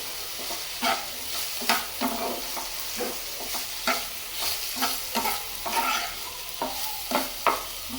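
Noodles stirred and frying in a pan, with regular scraping strokes of the spatula about once a second over a steady sizzle, close and alone with no talk.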